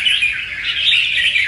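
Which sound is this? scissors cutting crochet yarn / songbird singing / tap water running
songbird singing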